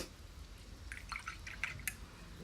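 A paintbrush rinsed in a cup of water during a painting lesson, giving a few faint, quiet drips and small splashes clustered in the middle of the moment, with no talk.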